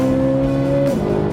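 A Dodge Durango Hellcat and Chevy Corvette Z06 drag race, a loud close engine wail holding steady pitch before an abrupt drop as a gear shifts, with a hint of tire noise.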